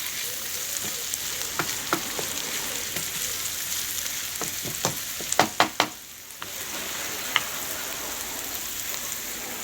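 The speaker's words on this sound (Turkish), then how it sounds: "Soğanlarım sotelendi biberlerimi soğanlarımla karıştırıyorum." Peppers and sautéed onions frying together in a pan hiss with a steady sizzle, while a burst of sharp stirring taps and scrapes comes near the middle before the frying settles back, close by with no voices.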